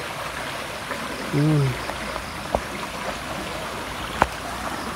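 Floodwater rushes through a swollen river beside farm fields, a steady broadband wash with a short spoken word partway through and a couple of sharp knocks.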